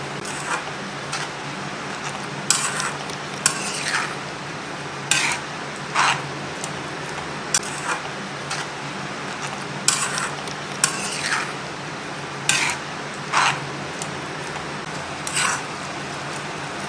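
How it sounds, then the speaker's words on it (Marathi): Spoon stirring a coconut, milk and sugar mixture in a pan over low heat, with steady soft scraping and sizzling and regular clinks of utensil against metal every second or two, close, no talk. "दूध आटेपर्यंत आणि साखर आटेपर्यंत सगळं ढवळत राहायचं।"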